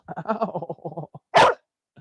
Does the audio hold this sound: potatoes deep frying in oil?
no